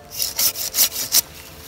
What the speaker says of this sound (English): we're going to use the large tooth on this branch, which is about an inch again.